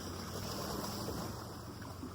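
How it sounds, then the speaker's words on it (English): Water splashing close by at a beach at high tide, a continuous soft wash of surf with wind noise, no voices. "I'm really close to the water. I'm going to try to tone down the splashy sounds."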